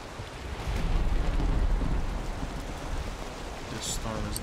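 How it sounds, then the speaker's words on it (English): A thunderstorm rages in the video game Valheim, with a steady roar of heavy rain and low rolling thunder swelling and easing throughout. "This storm is nuts."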